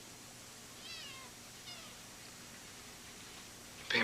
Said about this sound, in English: Pay more attention to that kitten than you do to me.